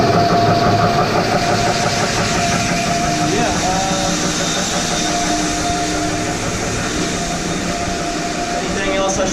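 A concrete grinder runs continuously with a dust extractor hooked up, giving a loud, steady motor drone and whine that fills the clip while a person talks over it.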